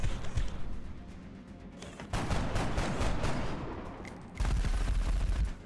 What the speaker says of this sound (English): It's shooting us